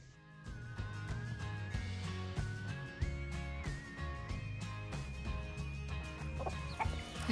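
Chickens cluck in a steady, busy stream close by, over a sustained tonal hum that runs throughout.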